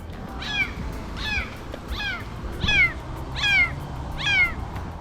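A frightened kitten stuck about 40 feet up a tree meows repeatedly, six high, plaintive cries in a steady rhythm, growing slightly louder, over low outdoor background noise.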